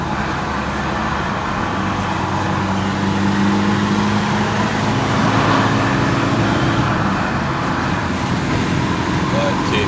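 Opel Vectra B 2.2 DTI diesel with software tuning to about 150 hp, engine pulling steadily under acceleration uphill with a droning hum and road noise; someone talks over it.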